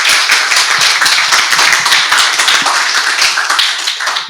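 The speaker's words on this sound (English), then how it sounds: "let's give Paul a round of applause" A tech-talk audience claps for a speaker after an Android app architecture presentation, a dense burst of close, sharp handclaps held loud and steady for the whole stretch, easing slightly at the end, with no talking.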